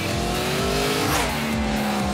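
MOTOBOT, a humanoid robot, rides a motorcycle on a track, its engine droning loud and close with a shifting pitch across a brief, continuous pass.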